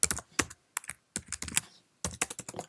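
Typing on a Mac computer keyboard while entering text into an Outlook email: quick clusters of crisp key clicks in short bursts with brief pauses, close and clear, no talk.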